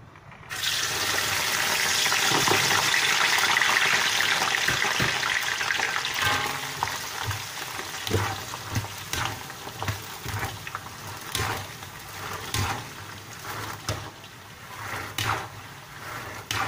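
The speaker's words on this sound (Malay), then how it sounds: "Kita goreng kacang." Peanuts, already washed, frying in a pan of oil for nasi lemak, a steady loud sizzle at first that settles into crackling pops and spatters, no voices.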